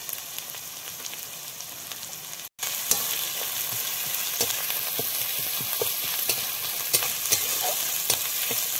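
Spice pastes of onion, garlic, ginger and cumin, with a little water, frying in a pan for a pointed gourd curry; a steady close sizzle with light stirring scrapes, briefly cutting out near the start, no talk.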